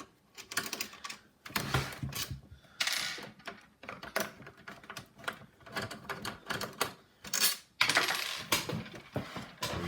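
Hard drive screws come out of a Dell Dimension 4100 desktop as a busy run of close metallic clicks, clinks and small rattles, irregular and sharp, with no talking.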